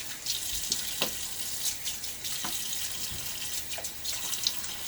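Tap water runs steadily into a bathroom sink before a wet shave, a soft continuous splashing stream close by with a few small clinks and drips over it, quiet and without talk.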